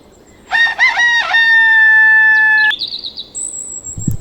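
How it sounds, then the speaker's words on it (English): A rooster crows once, loud and near, with a few quick rising notes and then a long held tone, followed by fainter chirps and rustling. "Rooster."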